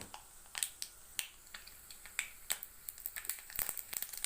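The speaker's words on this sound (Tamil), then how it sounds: "கடுகு பொரிஞ்சதும்" Mustard seeds pop in hot oil, scattered sharp little crackles that grow quicker and denser toward the end.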